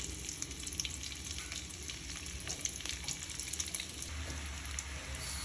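Ginger and garlic fry in a pan for a vegetable soupy Maggi noodle dish, giving a steady, close hiss of sizzling oil with faint crackles throughout, no voices.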